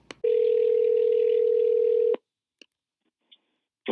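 At the start of a recorded phone call, a steady telephone dial tone sounds for about two seconds, clear and even. A few soft clicks and brief line noises follow in near silence.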